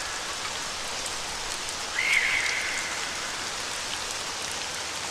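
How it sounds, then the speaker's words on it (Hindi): Steady rain hisses evenly throughout, swelling slightly for a moment partway through, with no voices. "लगातार बारिश की आवाज"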